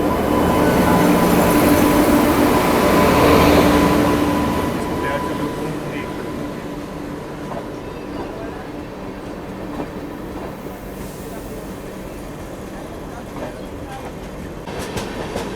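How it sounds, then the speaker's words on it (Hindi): The Okhapuri Express, also called the Dwarka Express, rolls past on the line outside while another train waits at the outer signal. Its rumble is loudest in the first few seconds, then eases into a steady lower clatter as it moves on. "और ये आ रही है ओखापुरी एक्सप्रेस।"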